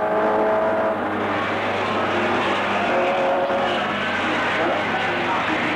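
Production saloon race cars at Mondello Park in 1987, including a turbo car, roar continuously at close range, engines droning steadily with faint tire noise throughout.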